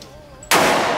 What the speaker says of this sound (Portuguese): Ela até posicionou pra dar o tiro